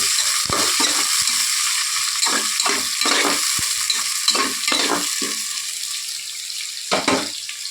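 Spoon scraping and stirring in a hot pan of sizzling oil for ivy gourd pulao, bursts of scraping strokes over a steady close frying hiss, then the sizzle carries on alone.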